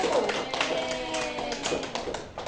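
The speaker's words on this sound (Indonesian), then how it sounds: "Berikan aplaus untuk kelompok 1." Scattered clapping from a class of students applauding a student group after its presentation in a micro-teaching lesson, quick uneven claps steady through the moment with faint voices murmuring underneath.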